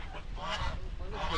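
Ducks take off and honk, a short burst of nasal honking calls at moderate distance over faint outdoor background.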